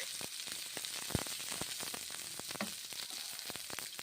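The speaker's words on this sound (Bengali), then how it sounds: "ভালো করে ভেজে নিচ্ছি 2 মিনিট।" Brinjal and spices frying in a wok: a soft, steady sizzle with scattered crackles and light clicks of stirring, fairly quiet throughout.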